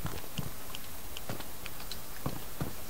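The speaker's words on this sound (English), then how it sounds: "I heard some Morse code though, did you hear that? Ticking? It's a lantern turning on and off." A lantern switching on and off in DayZ, giving a series of faint, sharp clicks spaced at uneven intervals in Morse-like bursts over quiet background hiss.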